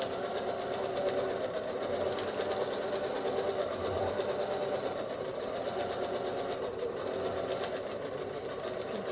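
A sewing machine runs continuously as it stitches a free-motion quilting design, its rapid, even needle clatter fairly quiet and steady throughout without speech.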